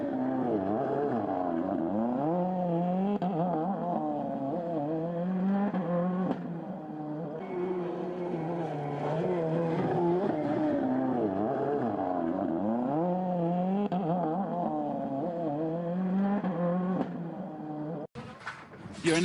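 A WRC rally car driven by Robert Kubica on a Rallye Monte Carlo 2014 stage, its engine note rising and falling through gear changes and revs, loud and steady for most of the run before cutting off near the end.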